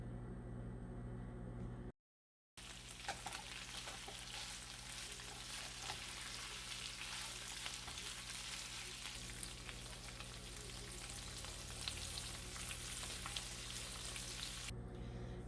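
Chicken fries in a pan with cashews, curry leaves and coriander leaves, giving a steady, close sizzle with faint stirring scrapes and a brief cut to silence near the start.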